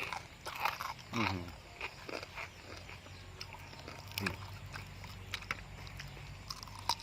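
Homemade crispy pork belly bitten and chewed close to the mic, with sharp crackly crunches repeating irregularly through the stretch and faint background noise.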